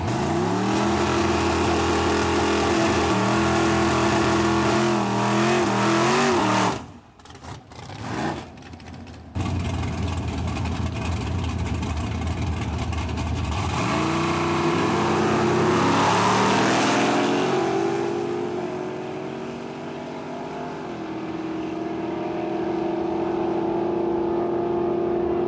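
Eight-cylinder AAA-category race cars in a final, roaring loudly and continuously with rising and falling engine pitch as they rev and pass, with one brief dip partway through.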